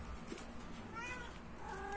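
A cat meows softly a few times outdoors, rising tones against a steady background murmur, fairly faint and close by.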